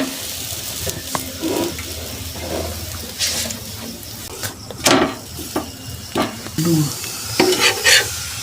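Potato-stuffed paratha frying and being stirred in a pan, with steady close sizzling broken by clattering scrapes and bumps of a utensil against the pan; no talking.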